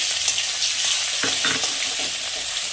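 Garlic sizzles and crackles loudly in hot oil, a steady frying hiss with a few stirring scrapes, no voices.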